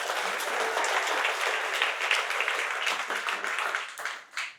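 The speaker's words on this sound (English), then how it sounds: "So please, a round of applause for her parents." Wedding guests clap together during toasts, a sustained close burst of applause that holds steady before thinning and fading at the end.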